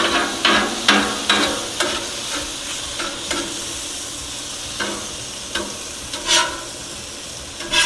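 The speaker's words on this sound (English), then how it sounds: "You just want to keep pushing that liquid right toward the items we're heating up." Liquid sizzling and hissing on a Blackstone griddle while burger patties reheat, a steady frying hiss punctuated by repeated scraping clicks of a spatula pushing the liquid around.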